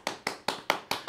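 A few sharp, evenly spaced claps ring out nearby at a steady rhythm, about five quick strikes with no voices, small-scale rather than a full crowd, greeting a prima donna arriving in the building.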